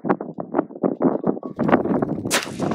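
A single gunshot from an M6 Scout survival rifle, fired outdoors in heavy wind. It is a sharp, bright burst near the end, after a run of uneven thumps and gusts.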